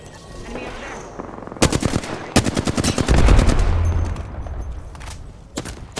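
Automatic gunfire in the Apex Legends shooter on PS4: rapid bursts of shots, loud and close, with rumbling impacts in the middle and a short final burst, a faint voice underneath.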